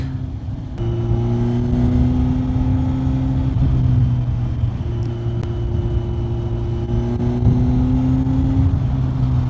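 A Kawasaki Z900 motorcycle with a Leo Vince GP Corsa slip-on exhaust cruises at a steady pace on a cold day. Its engine hums continuously, shifts gear once or twice, and wind rushes past throughout.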